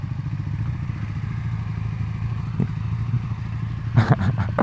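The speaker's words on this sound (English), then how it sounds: "Okay, I'm in fourth gear now. So, downshifting." A Triumph Scrambler 400x single-cylinder motorcycle hums steadily while downshifting. Near the end come a few short, sharp rises in revs and clattery bursts, heard close from the rider's position with wind noise underneath.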